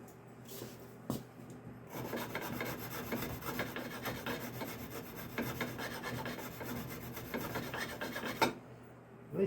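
A threading tool cuts a screw-in choke, a steady rasping scrape that runs continuously for several seconds after a couple of short strokes, close and fairly quiet.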